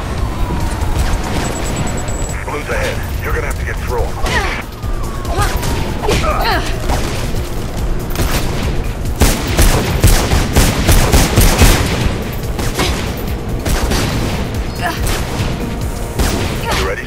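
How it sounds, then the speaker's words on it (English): Gunfire in the video game Mirror's Edge: loud bursts of shots and rapid automatic fire come in clusters over about seventeen seconds, with booms, impacts and radio-style voices talking amid the shooting. "I can hear gunshots"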